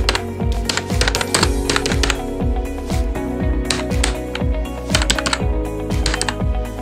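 Rapid typing on a computer keyboard, close and clear, with a steady stream of sharp key clicks and occasional heavier key strikes, no talking.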